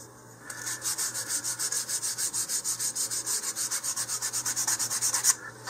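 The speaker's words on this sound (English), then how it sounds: "just use your sandpaper" Sandpaper rubbing the edges of balsa wood fins on an Estes Alpha model rocket, a steady close back-and-forth scratching in even strokes, about two per second, with no talking.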